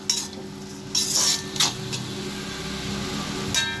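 Steady sizzling of tomatoes and prawns frying in a pan, with occasional scrapes and stirring clinks of a utensil, close and continuous.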